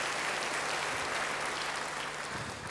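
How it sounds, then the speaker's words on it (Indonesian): A church congregation applauds during a sermon, a thick, continuous roar of clapping filling the space at steady loudness for a few seconds. "Yang senang, tepuk tangan bagi dia."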